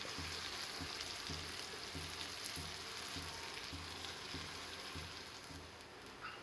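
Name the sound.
soaked puffed rice added to pan and stirred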